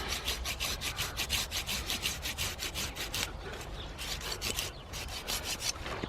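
A hand saw cuts through an apple tree branch during winter pruning, its rapid back-and-forth rasping strokes repeating steadily and close by, fairly quiet and without talk.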